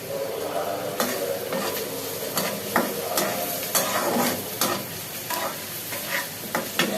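Onions frying in a pot for shahi biryani, a steady close sizzle broken by repeated scraping stirs that clink against the metal every second or so, with no talk.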